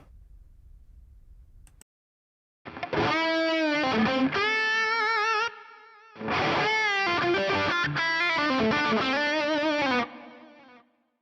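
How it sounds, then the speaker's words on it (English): Electric guitar played through spring reverb and ping-pong stereo delay, with distortion, ringing out in two loud sustained phrases separated by a short gap, echoes trailing after each note. "You can hear it ping pong. I have ping pong set."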